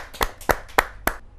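Applause at a Hindi kavi sammelan poetry gathering: four distinct, evenly spaced sharp claps, close and fairly loud, with no talking over them.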